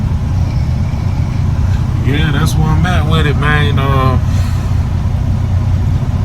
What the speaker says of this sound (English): I gotta let the truck run, man